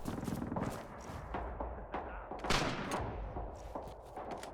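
An automatic weapon fires in Red Orchestra 2 in rapid, close bursts, loud cracks that run together into a ragged fusillade with small gaps between strings of shots.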